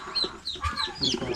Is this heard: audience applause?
no